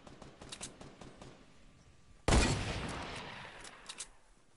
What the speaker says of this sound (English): Shooting at those kids.